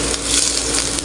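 Garlic and onion for a pork croquette filling frying in a pan, a steady bright hiss of sizzling oil with faint stirring scrapes, close and continuous with no talking.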